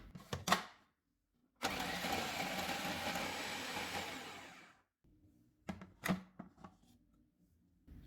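A food chopper or small blender whirs continuously for about three seconds while chopping tomato, coriander, mint and chilies, bracketed by short clattering knocks and handling sounds at close range.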